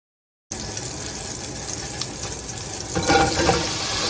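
Okra dropped into a pot of hot oil over high flame, a sudden loud sizzle that starts abruptly and swells stronger partway through, steady crackling hiss throughout.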